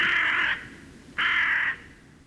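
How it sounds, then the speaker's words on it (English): Crows caw in a quiet spot in Poolbrook, Herefordshire: two long, harsh calls fairly close by, separated by a short pause, with no talking. "There are some car-crazy crows about."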